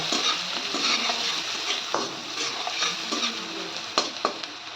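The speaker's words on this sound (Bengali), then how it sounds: "পেঁয়াজটাকে একটু ভালো করে বেজে নেব" Onion fries in oil in a pan for lentil dal, a continuous close sizzle with frequent spoon scrapes and light clinks against the metal.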